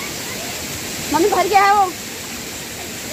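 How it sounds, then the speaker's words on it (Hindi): River swollen by heavy rain in the mountains, a steady broadband rush of water filling the background while a person talks briefly over it. "नदी में ही काफी सारा पानी हो रहा है"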